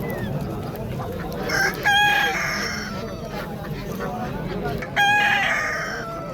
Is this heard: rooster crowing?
yes